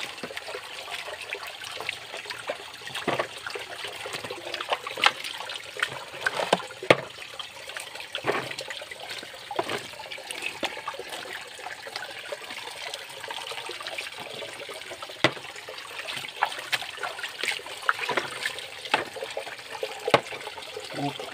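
Water poured over toy trucks being washed, a steady trickling and splashing with irregular splats and drips running continuously at close range, with no speech.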